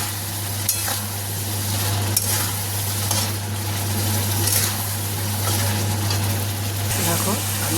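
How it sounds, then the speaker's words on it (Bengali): Masala spices and potatoes fry in a pan with a constant sizzle and repeated stirring scrapes, under a steady low hum. "দেখো আমি একদম সুন্দর করে আলুর সাথেও মশলাটাকে কষে নিয়েছি।"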